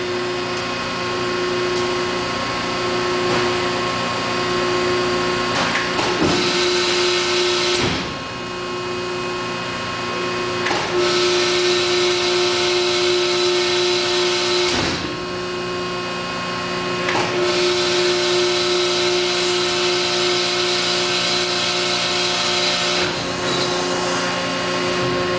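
A 500 ton down-acting hydraulic press, 70 by 60 inches, running an automatic cycle in a workshop, giving a steady loud hum and whine from the hydraulics with a few brief knocks and shifts in tone along the way, no voices.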